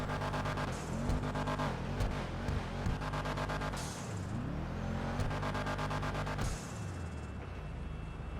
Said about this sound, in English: let's go ahead and give it some gas and do that sound test.